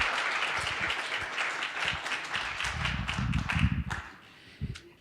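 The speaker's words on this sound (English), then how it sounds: "Thank you for that warm round of applause for Elsie and the ND Cares team" An audience claps warmly and steadily at a public partnership announcement for a veterans' suicide prevention program, the dense applause thinning toward the end with a few last scattered claps.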